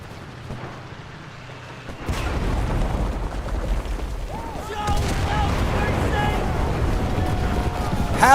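Bombs go off in the WWII shooter Enlisted, blasting away sandbag cover: two heavy booming blasts, each followed by a sustained rumble and debris noise, loud and close in the battle.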